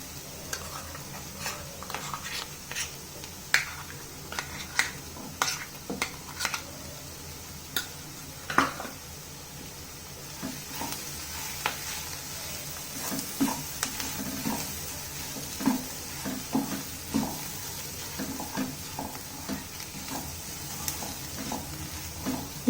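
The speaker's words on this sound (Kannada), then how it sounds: "ಇದನ್ನ ಚೆನ್ನಾಗಿ ನೀವು ಆಲೂಗಡ್ಡೆ ಜೊತೆ ಮಸಾಲೆ ಮಿಕ್ಸ್ ಆಗೋವರೆಗೂ ಕೈ ಆಡಿಸ್ಕೊಳ್ಳಿ" Mashed potato and masala for a samosa filling are stirred in a frying pan, giving a steady close sizzle broken by repeated scraping spoon strokes throughout, with no talking.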